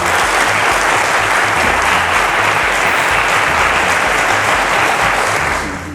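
Loud, dense studio audience applause on a televised quiz competition, a continuous roar of clapping that holds steady and tapers slightly at the very end.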